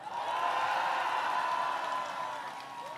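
Crowd clapping at a Korean presidential campaign rally in Mokpo, South Jeolla, in May 2025: a steady, dense wash of applause from a large outdoor audience that holds for about two seconds and then thins slightly.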